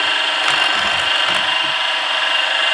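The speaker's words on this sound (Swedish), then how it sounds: "När vi har borrat de här tre hålen nu" A power drill bores holes into a clamped piece of wood, a loud, steady, high-pitched whine close up, with slight variations as the bit cuts.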